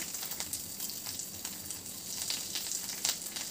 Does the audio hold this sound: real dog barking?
no